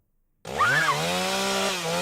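A chainsaw engine in the video game Leatherface: Shadow of Massacre revs up abruptly after a short silence, then settles into a steady, loud buzzing drone.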